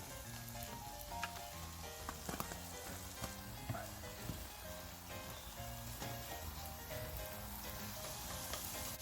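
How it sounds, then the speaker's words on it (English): Smoked bacon lardons sizzle and spit steadily in a pan inside a campervan, a dense, continuous frying crackle with occasional sharper pops, close and fairly loud, with no talk. "That's going in there. Smoked bacon lardons."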